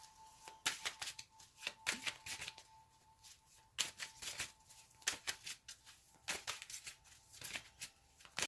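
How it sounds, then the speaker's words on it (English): Rapid riffling bursts of a card deck being shuffled repeatedly, crisp and close, in quick rhythmic clusters with short pauses between. "I'm going to do it one more shuffle"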